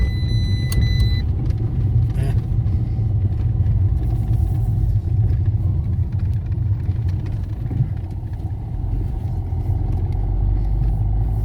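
A car drives slowly along a slippery road at the Tuesday market in İnegöl, a steady loud low engine rumble with road noise filling the whole stretch, without talk.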